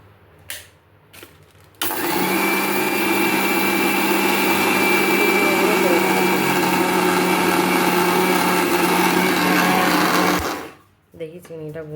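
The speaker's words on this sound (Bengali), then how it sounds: "তো চলো এবার এটা মিক্সি করে নিই।" Mixer grinder grinding roasted gram flour with sugar for laddu, a loud, steady high-pitched whirring motor that starts abruptly, runs about nine seconds and winds down, with brief clatter before and after.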